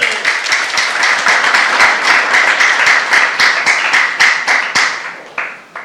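A church youth congregation breaks into applause during a sermon, steady broadband clapping with distinct sharp claps standing out, holding loud for several seconds before tapering off at the end.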